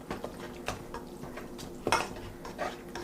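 Cornbread dressing seasoned with ground sage is stirred in a pan, giving soft scraping and irregular clinks of a utensil against the pan, close and fairly quiet, with no voices.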